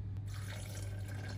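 Cold water, about 200 ml, poured into a Vitamix blender jar in a home kitchen, a steady close running splash lasting a moment over a low hum.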